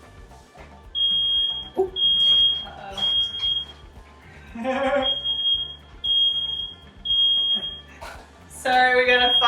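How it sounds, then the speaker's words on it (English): A smoke alarm set off by cornmeal smoking under a pizza in a home kitchen beeps in repeated high, piercing tones through the whole stretch, mixed with voices talking nearby and kitchen clatter. "Sorry, we got a fire alarm going on."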